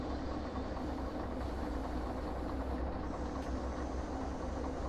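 Train engines in a train-driving game run on in a continuous low, heavy rumble with a steady mechanical hum, unbroken and fairly loud, without speech.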